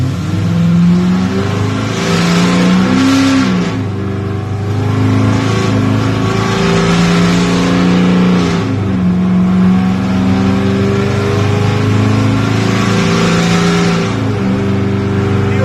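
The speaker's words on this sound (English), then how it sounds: "And we'll start accelerating up here." A car accelerates steadily through its gears while its newly rebuilt engine is being broken in, the engine note loud and continuous with rising and falling harmonics throughout and no talk.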